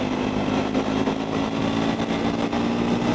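Triumph Scrambler 400 X motorcycle engine under way on a road, a steady, loud single-cylinder drone held at cruising revs, with wind rush and no talk.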